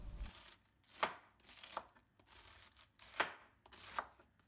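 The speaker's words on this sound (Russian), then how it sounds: "осталось нашинковать лук и капусту" Knife shredding onion and cabbage on a board for braised cabbage with chicken and mushrooms: four crisp, close chopping strokes at an uneven pace, with no talking.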